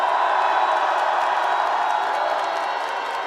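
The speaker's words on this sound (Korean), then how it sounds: "헌재를 위해 뜨거운 응원의 박수를 보내줍시다." A large crowd at a political rally claps and cheers in a continuous, wide roar, sustained and fairly loud with scattered whoops rising above the wash of hands.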